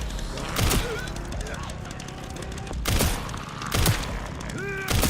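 Gunfire from the video game Resident Evil 9 Requiem comes in a few sharp, loud bursts spread over several seconds, with a person talking in between.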